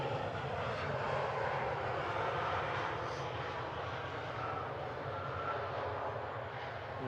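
An airliner landing at Manchester Airport, a steady broad roar of engines heard from a distance, continuous and even throughout with no voices.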